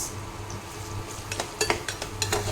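Onions frying in a pan with a soft sizzle, then clinks and scrapes of a utensil against the pan grow louder toward the end, over a low background hum.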